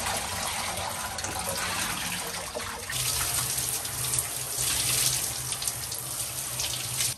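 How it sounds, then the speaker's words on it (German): Cold tap water runs steadily into a sink over a pink-dyed coat being rinsed, a continuous close splashing gush that shifts in tone partway through as the fabric moves under the stream. "Okay, wir haben es jetzt einmal kalt ausgespült, jetzt spülen wir es noch warm aus."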